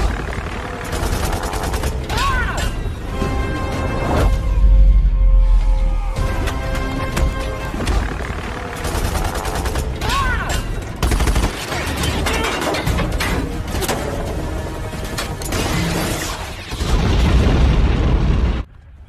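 Loud cinematic booms and bursts of gunfire from a superhero spy film rumble repeatedly over tense music, with heavy low-end impacts, a snow avalanche and clattering action throughout.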